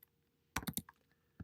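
A short burst of quick keystrokes on a computer keyboard, four or five close, crisp clicks in a row followed by a pause and one more tap, in a quiet room.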